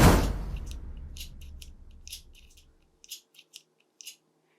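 A Modern Fuel bolt action pen's mechanism cycled by hand, first a loud rustling handling sound fading out, then four or five short crisp clicks spaced apart, close and alone.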